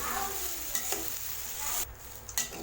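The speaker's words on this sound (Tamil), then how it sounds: "பாருங்கள் சாதத்தை சேர்த்துட்டு நல்லா கிளறிட்டேன்" A spatula scrapes and stirs rice around a hot pan while making garlic rice, soft sizzling continuing underneath, quiet and close.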